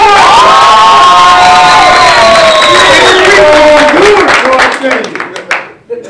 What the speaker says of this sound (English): I need for y'all to make noise as if your income tax check just came in yesterday. Make some noise